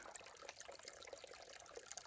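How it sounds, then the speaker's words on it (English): Water trickling out of an old perforated pipe in the ground along a mountain trail, a faint continuous dribbling with small bubbly splashes. "Water comes out. This must have been the old pipe, maybe. Perforated to let in the water."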